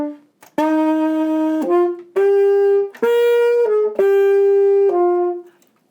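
An alto sax playing Romanza Part A with heavily exaggerated, over-the-top tonguing: a loud, close run of held notes, each sharply separated by short gaps, played solo.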